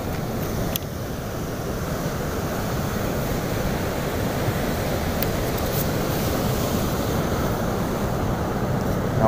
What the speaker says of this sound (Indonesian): Ombaknya masih kecil.